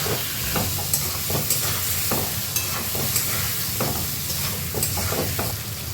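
Sliced potatoes with a little turmeric and salt fry in a pan while being stirred, a dense continuous sizzle punctuated by regular scraping knocks of a spatula, close and without talk.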